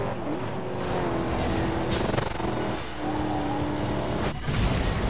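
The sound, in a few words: car engine in racing video game Blur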